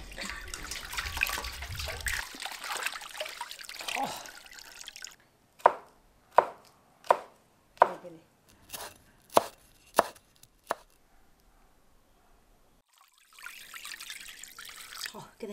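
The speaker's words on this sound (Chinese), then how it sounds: "你会不会切大椒丝？" A knife cuts chili peppers into thin shreds on a board, eight or so crisp, evenly spaced chops, close and clear, after running water and talk and before more voices.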